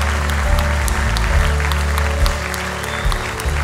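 A church congregation claps warmly in a large room, steady applause with a few louder bursts, backed by low sustained instrumental tones.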